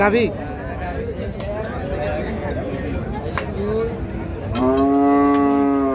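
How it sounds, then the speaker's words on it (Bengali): A cow at a busy cattle market lets out a loud, drawn-out moo near the end, following fainter lowing earlier, over constant crowd chatter and a voice nearby. "এটা একটা গাভী।"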